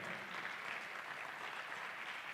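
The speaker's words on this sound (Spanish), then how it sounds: "dale un aplauso al Señor" A church congregation at a worship conference applauds, a soft, even wash of clapping heard from a distance and sustained without break.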